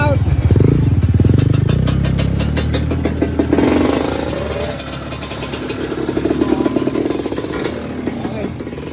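A motorcycle engine runs close by on a rough shortcut trail, rumbling steadily and loudly with clattering, while people talk over it.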